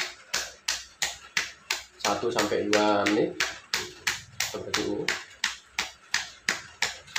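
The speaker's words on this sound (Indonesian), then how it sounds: "selanjutnya yang ditepuk adalah bawah tempurung sini, di bawah tempurung sini, seperti ini." Hand slaps on the leg just below the kneecap, delivered as a steady, even run of about twenty close, crisp pats, with a voice talking over the middle stretch.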